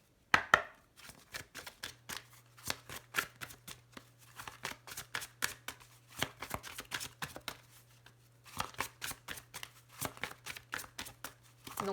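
A deck of tarot cards being cut and shuffled by hand, a long run of rapid riffling flaps and card slaps, close and crisp, with a faint steady hum beneath.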